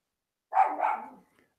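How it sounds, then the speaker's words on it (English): A single dog bark, close and fairly loud, a short rough woof that trails off, alone with no talking over it. "Dog is happy."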